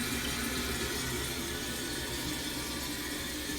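A 1983 American Standard Cadet toilet's original fill valve refills the tank with a steady, loud, continuous rush of running water, unbroken throughout.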